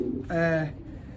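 Pigeons in a loft, moulting, give a single close, throaty coo that swells and fades over about half a second, with soft background noise before and after.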